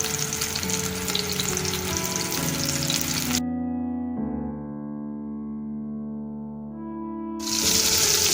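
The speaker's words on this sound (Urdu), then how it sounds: "یہ دیکھیے ہمارے کوفتے جو ہے یہ فرائی ہو رہے ہیں" Kofta meatballs frying in a little oil give a dense, steady sizzle at close range. Midway the hiss briefly drops out, leaving a low tonal hum, then the sizzle returns.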